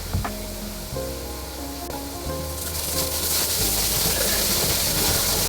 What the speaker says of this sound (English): Step 3, gentle motions to begin foaming.